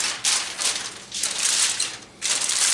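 Aluminum foil crinkles and rustles loudly up close in several bursts as it is folded around smoked beef short ribs, with brief pauses between the crumpling sounds.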